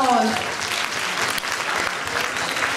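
Audience at a WOŚP Grand Finale charity auction applauds after a lot sells, a steady burst of dense clapping from a crowd that starts with a bit of voice and lasts a few seconds.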